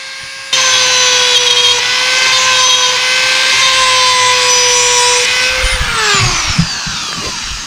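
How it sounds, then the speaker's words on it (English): A drill bores out a wire channel in a hand-made wooden musky crankbait lure. A loud, steady high-pitched whine holds for about five seconds, then winds down in pitch, and brief scraping sounds follow. "let's drill it out a little bit more"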